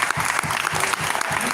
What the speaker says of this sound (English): Ed Riley, a big round of applause.